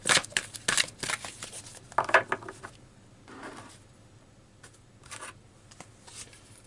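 Tarot cards shuffled and pulled at close range, quick papery riffles and flicks in bursts at the start, then quieter scattered slides and taps of single cards.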